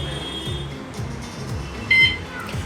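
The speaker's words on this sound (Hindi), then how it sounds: "अब इसके बाद आपको 5 सेकंड के बाद एक बीप सुनाई देती है।" A bicycle alarm gives a single short, high confirmation beep after being locked, heard faintly over a steady background hum and low murmuring.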